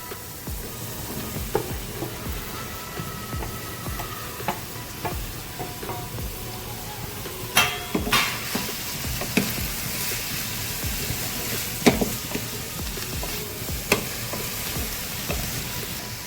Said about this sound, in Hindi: ये इनको भी मैं अनियंस के साथ सॉटे करने के लिए डाल दूंगी।